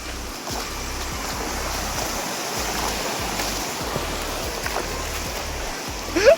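Stream water rushes and splashes steadily around people wading over rocks, a continuous close babble with occasional louder splashes near the end.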